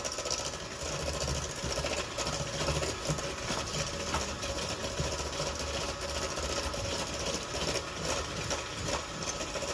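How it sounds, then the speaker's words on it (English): An electric hand mixer runs continuously, a steady, fairly loud whirring motor hum with no talking over it. "it's a lot faster if you have your mixer"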